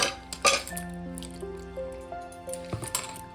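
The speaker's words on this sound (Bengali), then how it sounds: "এবার আমি ভালো করে এটাকে ধুয়ে নেব" Freshly cut papaya pieces are rinsed in water, with drips and small splashes and a couple of louder sloshes, faint beneath steady background music.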